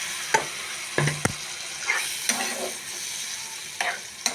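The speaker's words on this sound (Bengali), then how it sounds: "এবার আলুগুলো দিয়ে দিচ্ছি, আলু দিয়ে একটু নেড়ে নেব।" Potatoes are stirred into a fried spice paste for fish curry, with repeated spatula scrapes and knocks against the pan over a soft, steady sizzle, close and clear.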